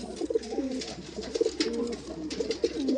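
Large Poshchima pigeons coo in soft, repeated rolling calls, close and clear, with several birds overlapping against a quiet background.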